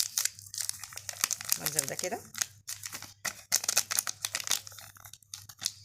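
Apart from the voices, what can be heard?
bag of milk powder being opened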